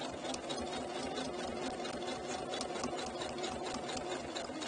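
A sewing machine stitches fabric toward an inward-facing corner, a close, steady rapid mechanical whirr with an even rhythm throughout.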